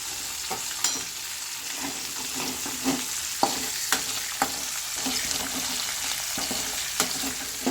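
Curry leaves crackle in leftover fish-frying oil, a steady close sizzle broken by regular stirring taps and scrapes.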